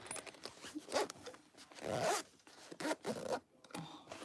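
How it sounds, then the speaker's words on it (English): The zipper on a handmade cargo belt bag is pulled closed in several quick, raspy strokes with short pauses between them, close and fairly loud, with no voices. "And the zipper zips up real nice"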